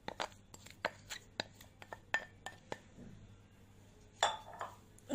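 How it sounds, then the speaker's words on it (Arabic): A spoon scrapes and clinks against a pot while a lettuce-leaf stuffing mixture with greens and chicken is stirred, giving a run of close, sharp metallic taps with short pauses. "ونقلب كويس جدا اهو"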